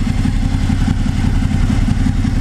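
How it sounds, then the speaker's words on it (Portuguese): Warm motorcycle engine idling steadily just after an oil change to Motul 7100 synthetic: a loud, close, continuous low rumble with even mechanical clatter, no revving and no talk. "A moto já tá quente, vamos tá desligando aí."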